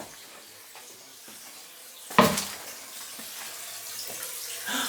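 Water suddenly gushes from a leak inside an abandoned house, starting with a sharp splash and then running on as a steady hiss. It sounds fairly close, with faint room noise around it and no clear speech.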